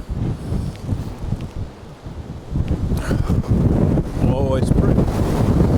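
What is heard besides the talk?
strong wind at Loch Ness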